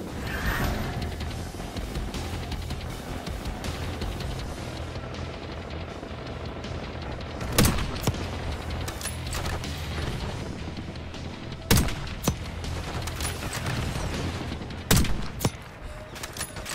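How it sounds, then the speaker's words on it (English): Heavy gunfire in Call of Duty: Black Ops 6, a steady barrage of rapid shots with several louder sharp cracks standing out, continuous combat noise with no talk. "Who is shooting at me, man?"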